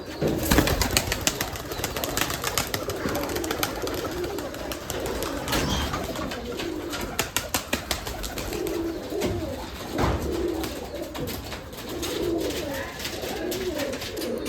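Giribaz pigeons coo at a farm of about 150 birds, a dense, continuous chorus of overlapping low coos close by, dotted with small clicks and shuffles.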